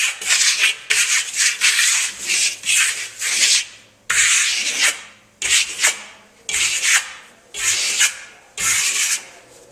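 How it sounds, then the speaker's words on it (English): Limewash from American Clay brushed onto a damp wall in a crosshatch pattern, a close, dry rhythmic scrubbing in repeated strokes with brief pauses between bursts. "and applying my lime wash."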